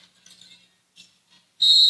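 A referee's whistle at a women's college basketball game gives one sharp, shrill, sustained blast that cuts in suddenly after faint, scattered arena sounds.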